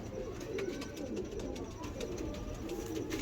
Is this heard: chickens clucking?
no